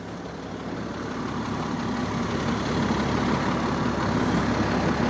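The diesel engine of a 2003 National Tradewinds LE 391 Class A motorhome runs at a steady idle, a close, even low drone that holds constant throughout.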